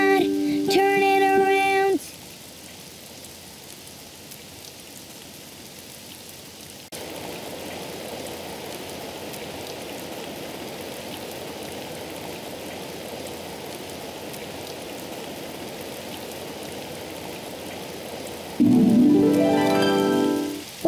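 Rain falls outside in a children's cartoon as a continuous, even hiss of moderate loudness. Bursts of music mark the start and the end.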